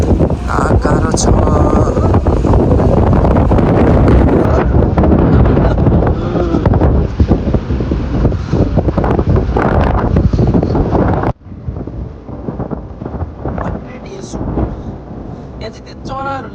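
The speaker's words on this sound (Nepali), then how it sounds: "कस्तै हावा छ नि यहाँ समुद्र छेउमा" Strong seaside wind battering the microphone in loud, continuous gusty roars that drop off sharply near the end, with a voice talking faintly underneath.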